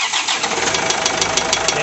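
An Isuzu 4JH1 diesel engine cranks and catches, settling into a loud, close, clattering rhythm with a knocking fault, steady throughout with no talk.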